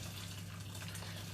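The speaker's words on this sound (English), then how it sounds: "I'm pouring this boiling water" Boiling water pours over cauliflower florets in a kitchen, a steady close gush of liquid with a constant low hum running underneath throughout.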